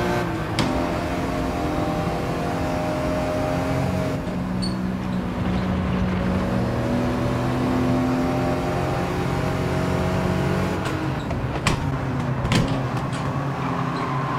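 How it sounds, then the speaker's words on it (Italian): A Volkswagen Scirocco with a non-original engine runs steadily in Gran Turismo 7, a continuous droning engine note with occasional sharp pops and crackles, heard without talk. "come scoppietta questa Scirocco. Non ha il motore originale, sicuro."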